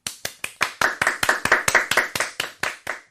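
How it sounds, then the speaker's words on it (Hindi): Brisk, evenly spaced claps ring out during a children's quiz program as the audience cheers young contestant Hriday for a correct answer, about fourteen sharp, close claps in a steady rhythm. "तो एक बार हृदय के लिए जोरदार तालियां।"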